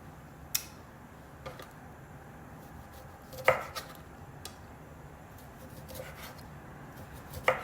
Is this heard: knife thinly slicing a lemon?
yes